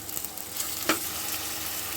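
Green peas fry in a hot tempering with asafoetida, a continuous close sizzle with one sharp spoon clink partway through, no voices.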